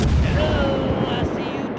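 Heavy naval guns fire in the World of Warships video game, a loud, rumbling boom that fills the whole clip and slowly rolls off without a break.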